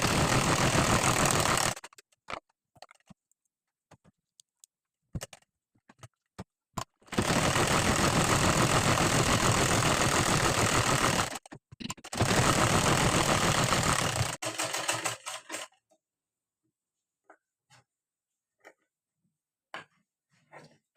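A sewing machine runs a basting stitch along a blouse sleeve, its motor whirring in long steady bursts separated by short stops and scattered clicks, then falling quiet near the end; close and fairly loud.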